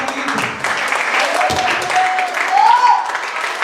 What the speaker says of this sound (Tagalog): Sa palakpak mo, mga kapatid.